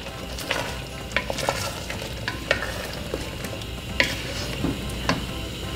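Shrimp curry with coconut cream, string beans and squash being stirred in a pan, a continuous simmering sizzle with regular close scrapes and taps of the spoon.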